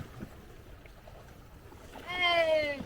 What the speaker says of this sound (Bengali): নৌকার ছল ছল